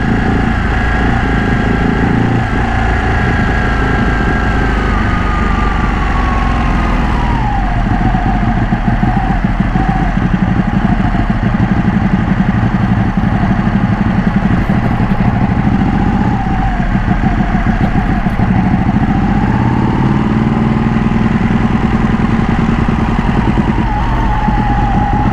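A modified Ducati Panigale 1199 Tricolore motorcycle engine runs loud and steady throughout, with rising and falling revs and a continuous droning tone, no talking.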